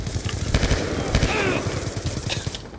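Rapid automatic gunfire from a sentry turret in Black Ops 2, a steady stream of close, loud shots with a faint voice underneath.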